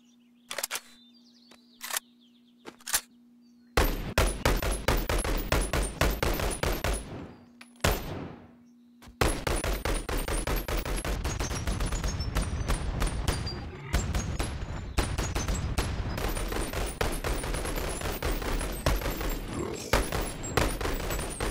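An M16 rifle with ACOG scope fires in the BoneLab video game: sharp, loud shots in scattered single bursts at first, then long rapid strings of gunfire with brief pauses and a mechanical hum at times.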